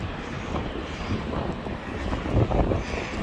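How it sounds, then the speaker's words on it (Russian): Steady, gusty wind in the aftermath of a hurricane in Novokuznetsk rumbles and buffets outdoors, swelling louder toward the end, with no voices. "Ветрище караул. Прям толкает в спину."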